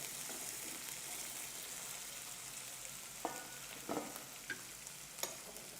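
Cauliflower frying in a pan with chopped coriander and curry leaves, a steady soft sizzle with a few light stirring clicks and scrapes near the end.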